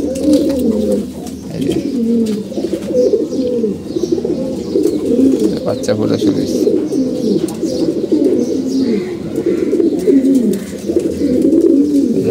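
Pigeons coo steadily in a loft where eggs are hatching, with many overlapping throaty calls forming a dense, continuous murmur close by; a voice speaks briefly over them.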